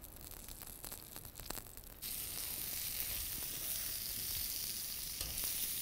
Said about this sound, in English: all I do to that now is just put salt and pepper on it and then just whack it on the hot plate